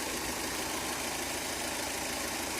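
A Fiat Marea Liberty Exclusive car engine idles steadily at close range, a continuous mid-low hum with faint knocking texture and no pauses or talk.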